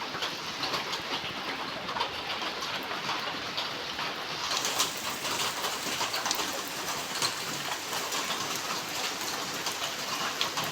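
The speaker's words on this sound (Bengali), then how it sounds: "এই দেখো বন্ধুরা, শিলিগুড়িতে বৃষ্টি হচ্ছে।" Steady rain falls in Siliguri, a continuous dense hiss of drops that stays even and moderately loud throughout, with no voices.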